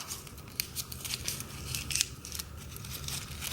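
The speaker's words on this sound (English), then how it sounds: "you're going to pick it up and crumple it up" A sheet of paper being crumpled by hand into a small ball, with close, crackly crinkling and rustling bursts coming in irregular pulses and no talk.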